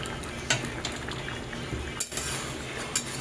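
Fried fish pieces go into simmering fish curry and are spread around, a close wet bubbling and gentle stirring with a few soft clinks of a utensil against the pan.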